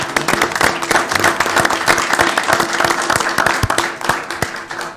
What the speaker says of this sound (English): We can give Tammy a big round of applause.